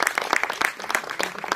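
Audience applause at a business meeting in Surat, a dense burst of many hands clapping steadily throughout, fairly close and loud with no talk over it.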